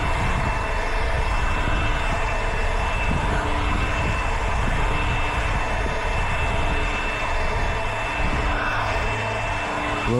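A gas-powered leaf blower runs steadily and loud, blasting leftover fertilizer granules off paved common areas and the street back into the lawn, a continuous roaring drone with no break.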